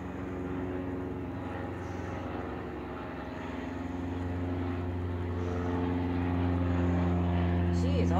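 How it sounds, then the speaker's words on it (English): A propeller airplane drones overhead outdoors, a steady low engine hum that swells gradually louder across the clip, with a faint voice in the background. "All the planes are flying over today."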